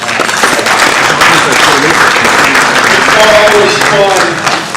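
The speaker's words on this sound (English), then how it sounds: "So give yourselves a round of applause." Blue team participants at a red team debrief event applaud themselves, a loud, close, dense clapping that holds steady for several seconds with some voices mixed in.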